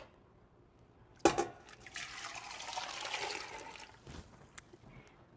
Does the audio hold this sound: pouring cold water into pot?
yes